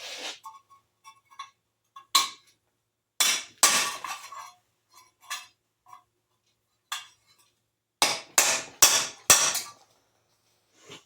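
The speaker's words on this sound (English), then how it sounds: "Nice little chisel. Nice little hammer." Hammer driving a small chisel against a stuck bolt head on an 18 HP Briggs & Stratton opposed V-twin engine: sharp metallic strikes, some single and some in quick bursts of three or four, with quiet pauses between, close and loud.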